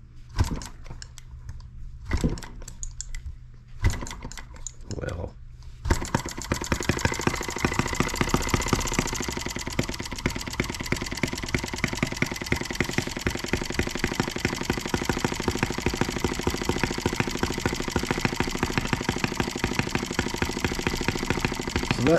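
A small engine fitted with a nitro-fueled carburetor and a steel-wool-packed, toned-down exhaust cranks in short bursts, then catches and runs steadily with a dense, rapid buzzing rattle for the rest of the stretch.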